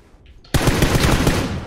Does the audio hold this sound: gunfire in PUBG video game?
yes